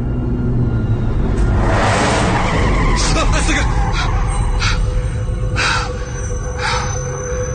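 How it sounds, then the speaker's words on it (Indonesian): A car braking suddenly on a steep, fog-covered mountain climb at night, tires skidding loudly for several seconds under continuous engine and road noise, close and harsh, with a voice speaking over it. "seketika itu aku rem mendadak"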